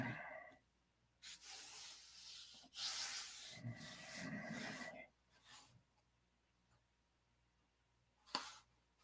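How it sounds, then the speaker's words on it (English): Hand sanding of wood while building a hand plane: scattered bursts of abrasive rubbing with gaps of quiet between strokes, one louder scrape near the end, close and moderately faint with no talking. "I'll sand it down to 16th"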